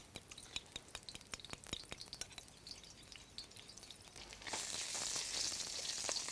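Egg and rice are stirred as they fry in a pan for Vietnamese chicken fried rice. A spatula scrapes and clicks, then a strong hiss of frying swells and holds steady, close by.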